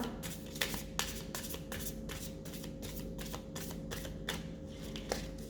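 Cards being shuffled for a card reading, a steady run of soft riffling bursts with a few sharper snaps, close and alone with no talk.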